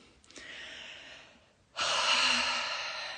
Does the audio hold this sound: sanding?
no